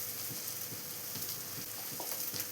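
Spices sizzle steadily in hot oil in a pan for a cauliflower curry: chilli, coriander, Kashmiri chilli and pepper powders being sautéed with soft stirring taps. The sizzle is constant and close.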